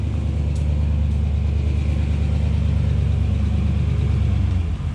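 A turbocharged Honda CR-Z engine idles steadily after its first start, a close, continuous low rumble with even loudness throughout and no talk over it.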